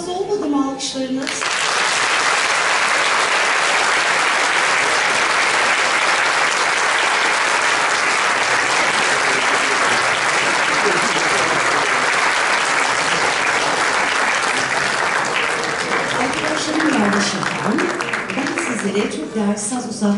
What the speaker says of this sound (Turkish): Çok az olmadı mı alkışlarınız?